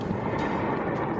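Oil tankers hit by rockets fired from helicopters go up in a heavy, rumbling blast that fills the whole moment, a dense, sustained roar with no voices.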